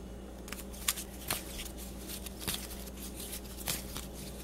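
Tarot cards are drawn and laid on a table with soft scattered slides and taps, faint against a steady air-conditioner hum in a quiet room.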